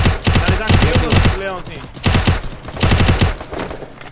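Rapid bursts of automatic gunfire from a video game, dense and loud, arriving in several quick volleys over about four seconds with no talk.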